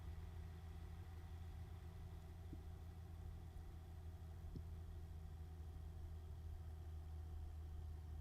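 A modded truck in a trucking video game idles with a steady, low rumbling drone that holds even and unbroken throughout, close and continuous, with no voices over it.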